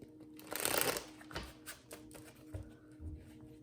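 A deck of tarot cards is shuffled close up, a quick riffling burst followed by a few softer taps and shuffles, with no talking.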